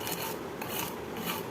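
Horse gram lentils rubbed lightly on a flat grinding stone to strip their husks, giving a steady, close, continuous rasping scrape with gentle surges in pressure and no voices.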